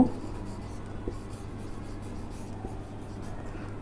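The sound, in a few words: writing chemistry equation on a board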